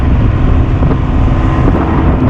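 Strong wind roars steadily at sea aboard a crab fishing boat, buffeting the microphone in a continuous loud rumble with boat noise mixed underneath and no talking.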